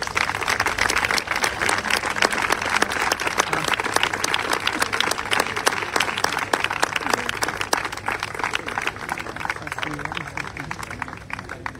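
Spectators at a golf open awards ceremony applaud warmly, with many distinct hand claps rippling throughout in a steady, lively patter that tapers slightly toward the end.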